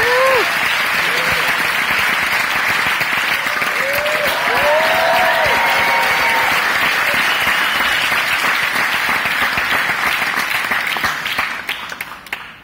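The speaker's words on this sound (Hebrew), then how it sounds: "אלון, כפיים לאלון, ברוך הבא" Audience applause greeting a new speaker at an informal talk event, steady dense clapping from a crowd lasting about twelve seconds, with a few cheers and voices mixed in before it tapers off at the end.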